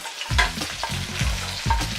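Onion tossed into a pan of hot oil with already-browned garlic, sizzling and frying steadily while a spatula stirs it with a few scraping strokes, close and fairly loud.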